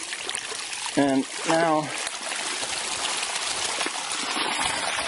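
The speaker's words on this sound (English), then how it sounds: "if I want to shut the water off to that area, all I do is this." A small garden water stream flows and trickles steadily near terraced contour beds before being shut off, its running sound continuing under brief speech.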